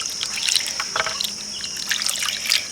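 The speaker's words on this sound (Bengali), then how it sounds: "এই জলটা দিয়ে আমি ছানাটাকে ভালো করে ধুয়ে নেব।" Tap water trickles over fresh chhena (cottage cheese curdled with vinegar) being rinsed in a cloth for rasgulla, a soft, steady close splash with small droplet bursts, no voices.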